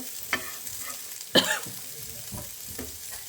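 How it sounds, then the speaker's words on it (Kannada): Chicken pieces fry on a hot tava with a steady sizzle. A few sharp metallic scrapes and clanks come as the pieces are turned and pushed to the edges, and no one speaks. "ಇದನ್ನೆಲ್ಲ ಈ ಕಡೆ ಹಿಂಗೆ ಸೈಡ್ ಸೈಡ್ ಎಡ್ಜ್ನಲ್ಲಿಟ್ಟು ತಿರ್ಸಾಕ್ತಾ ಬೇಯಿಸ್ತಾ ಇರಬೇಕು"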